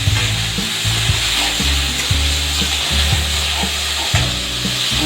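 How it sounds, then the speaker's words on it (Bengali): Boiled pasta sizzles steadily in a hot pan while a utensil stirs and scrapes through it in repeated strokes. The frying is loud, close and continuous, with no voices. "এখন এর মধ্যে আমি যে পাস্তাটা রেখেছি সেদ্ধ করে সেগুলো দিয়ে দিচ্ছি।"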